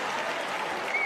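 Steady, dense applause from a large crowd at a wheelchair tennis match, continuous and fairly loud for about a second with no pauses.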